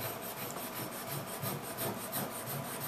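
A steel chisel is pressed flat and rubbed back and forth on a sharpening stone, giving a quiet, steady rasping with an even stroke rhythm throughout.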